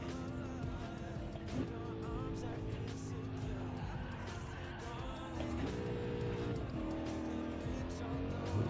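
Race car engine droning at Nürburgring in Gran Turismo 7, a steady tonal hum with pitch shifts between gears and a faint tire squeal, sounding continuous and moderately loud throughout.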